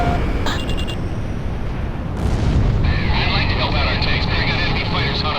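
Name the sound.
explosions in video game Ace Combat 6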